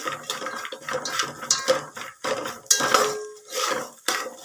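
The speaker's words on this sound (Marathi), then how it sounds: "आता याच्यामध्ये आपल्याला टाकायचे आहे शेंगदाणे आणि छान थोडंसं फ्राय करायचे" Peanuts fried in a pan for chivda, rattling and clinking in uneven bursts as they are tossed and stirred against the metal, close and fairly quiet, no speech.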